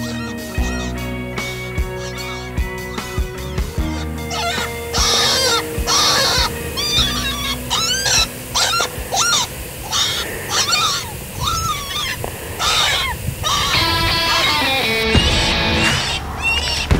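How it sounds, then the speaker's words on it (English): Electronic predator-calling decoy collar playing an injured rabbit distress call outdoors, a long run of loud, repeated squealing cries in uneven bursts over a steady background hum. "I use an electronic collar that mimics the sound of an injured rabbit"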